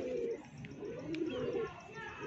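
A pair of Lakha pigeons cooing in soft, low, rounded calls that repeat steadily and close by through the whole stretch.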